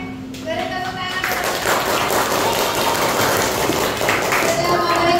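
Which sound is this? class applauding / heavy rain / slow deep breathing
class applauding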